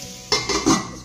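Metal clatter of a lid set onto a pot of rajma curry in a home kitchen, two or three close clinks and knocks after a quiet start, with no talking.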